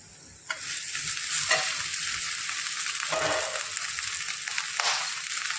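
Rice tipped into a pan of fried onions and curry leaves sizzles steadily while a spoon stirs it, giving a few scraping pushes and small bursts over the continuous frying hiss.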